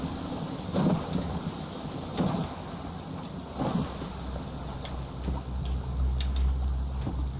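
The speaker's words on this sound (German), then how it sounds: "Das wird ein Sturm." Stranded Deep video game thunderstorm: constant rain and wind noise with dull rumbles of thunder recurring every second or so and a low engine-like drone near the end, with no talk.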